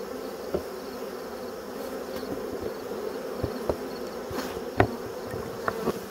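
Honeybees buzz loudly and continuously during a hive inspection, with a few sharp clicks and knocks from frames or tools breaking through the close, droning hum.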